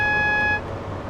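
A single steady electronic notification tone in a train simulator game with a GWR Class 43 High Speed Train on the Reading to London Paddington route, a clear chord-like beep lasting about half a second before cutting off over a low rumble.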